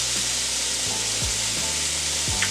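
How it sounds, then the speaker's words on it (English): Onions saute in a hot pan with a steady sizzle, and a utensil scrapes and stirs them a few times. "We'll finish up sauteing our onions."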